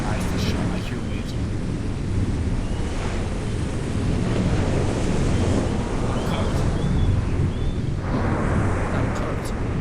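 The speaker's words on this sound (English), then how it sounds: "I hear waves." Ocean waves wash steadily in the game A Dark Place, a broad, continuous roar of surf mixed with wind, fairly loud and unbroken across the whole stretch.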